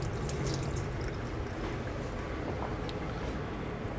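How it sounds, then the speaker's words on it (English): Baby courgettes and heritage carrots are washed lightly by hand in water, a soft continuous splashing and trickling at close range with small drips. "some nice heritage carrots, which I'm just going to really lightly wash by hand"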